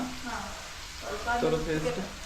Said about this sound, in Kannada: ನೋಡ್ರಿ ಚೆನ್ನಾಗಿ ಫ್ರೈ ಆಗತ್ತೈತಿ ಫ್ರೈ ಆಗ್ತೈತಿ